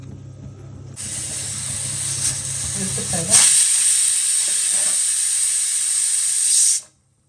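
A loud, steady steam hiss bursts out and holds for several seconds before cutting off abruptly, a pressure cooker venting its whistle while cooking sticky rice.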